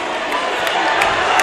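An upset home crowd at a Dover versus Bedford high school basketball playoff game roars in a loud, sustained wash of voices and jeers, with faint squeaks and thuds coming through.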